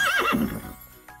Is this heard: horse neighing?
yes